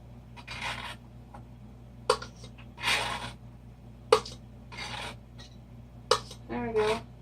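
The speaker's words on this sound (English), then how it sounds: "I guess maybe I could scrape that up and get it off of there." Spilled material is scraped off a surface in repeated short rasping strokes that sound close and fairly faint over a steady background hum.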